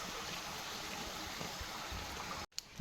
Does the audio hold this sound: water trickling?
yes